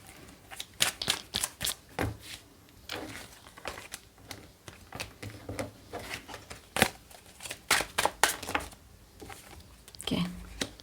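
Tarot cards being shuffled by hand in repeated bursts of crisp, riffling flicks and slaps, fairly close and moderately loud, with brief pauses between handfuls.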